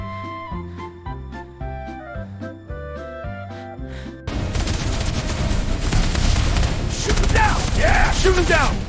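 Rapid volleys of video game gunfire, turret and weapon fire in a cartoon battle of fluffy cats against monkeys, burst in loud and dense after a stretch of bouncy game music, the shots and booms dominating the mix.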